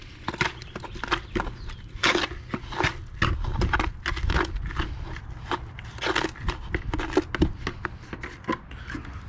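Gritty scraping and crunching strokes repeat unevenly as a thick fast-setting concrete patch mix is stirred, close and fairly loud, with no talking.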